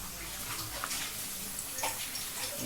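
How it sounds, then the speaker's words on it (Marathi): Leftover chapati fries in hot oil in a pan over medium heat, giving a steady, even hiss and sizzle that continues without pause at moderate volume. "तर आपण एक गरम तेलामध्ये आपण ही चपाती फ्राय करून घेऊया."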